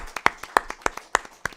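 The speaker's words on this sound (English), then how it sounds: "A big round of applause for our freshman class officers this year." A few hands clapping in slow, separate, evenly spaced claps, about six sharp strikes, close and fairly quiet, as freshman class officers are applauded at a school board meeting.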